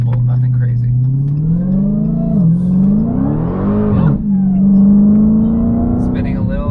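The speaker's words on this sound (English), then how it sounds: "It sounds amazing. That Supercharger." A supercharged Dodge Challenger Hellcat Redeye pulls hard, its engine roaring loud and close with a rising, falling pitch and supercharger whine, while people talk excitedly over it.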